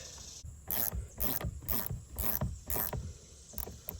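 Nut being tightened down onto a washer during a fishing boat upgrade, giving a series of about six evenly spaced ratcheting clicks, close and moderately loud, with no talking.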